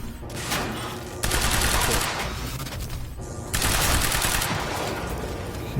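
Sniper and automatic gunfire in the video game Quantum Break, sustained loud rattling bursts in two long stretches with a brief lull between, and a voice faintly under the shooting.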